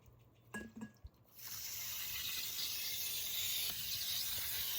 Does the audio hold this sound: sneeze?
no